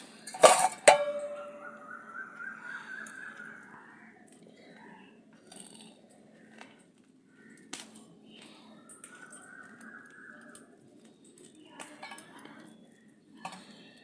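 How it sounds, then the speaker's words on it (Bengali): A spoon scoops the pulp out of a cracked-open bael fruit, making soft scrapes and a few sharp clinks against the shell and bowl, close and fairly quiet, with sparse pauses between strokes. "এবারে বেলটাকে এই চামচটা দিয়ে বার করে নেবো"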